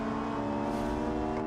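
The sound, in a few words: inline-five car engine revving in BeamNG.drive video game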